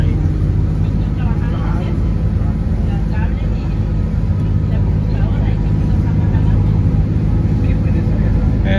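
A school bus drives along a washed-out, single-lane road in Costa Rica, its engine rumbling loud, close and continuous, with steady road noise.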